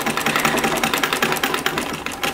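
Free-motion stitching along the edge of lace on a sewing machine used without a standard presser foot, a steady close mechanical whirr with a fast regular needle chatter running throughout.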